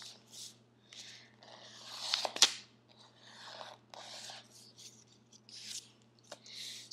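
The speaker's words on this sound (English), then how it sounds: "Use your fingernail to crease it." Origami paper being folded and creased with a fingernail for a ninja star shuriken, giving soft scattered rustles and rubs with one sharper crinkling snap midway, close and quiet with no talk.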